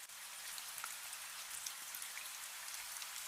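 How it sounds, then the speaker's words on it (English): Steady rainfall patters on surfaces nearby, a soft even hiss dotted with individual drops, with no voices. "Even the rain seems to fall more softly for a moment"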